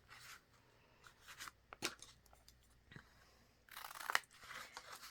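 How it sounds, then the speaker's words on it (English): Scissors snip the corners off handmade journal cards, a few quick crisp cuts with paper crunches and rustles in between, close and fairly quiet with no talking. "Before I do anything, I'm going to cut my corners."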